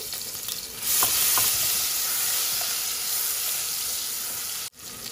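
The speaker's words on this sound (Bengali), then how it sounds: "তো একটু তেল দিলাম, তো আমি রসুন দিলাম, বড়ই একটা রসুন আমি দিলাইছি" Garlic and oil sizzle loudly in a pan for Sylheti cooking, a steady frying hiss with a few faint clinks near the start and a sudden brief drop near the end.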